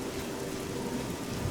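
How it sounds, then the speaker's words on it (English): Steady rainstorm in the town of Leyawiin in the game Oblivion, a continuous even hiss of falling rain with a low rumble underneath, no voices. "Yes, the storm did not abate."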